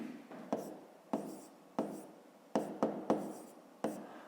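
A pen scratches across paper in short strokes and taps during a fifth-grade maths exercise, quiet and close, with no voice heard.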